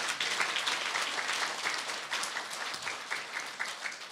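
Audience clapping at a low-carb high-fat nutrition seminar, a dense, steady round of applause from a crowd lasting several seconds without talk.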